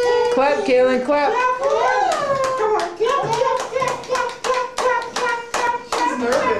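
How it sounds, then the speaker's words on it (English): Small child clapping at a birthday celebration, a run of light, quick hand claps heard beneath adults talking and singing encouragement, with the voices dominating and claps tapping through between phrases. "Come on, clap."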